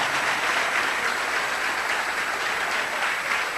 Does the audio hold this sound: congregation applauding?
yes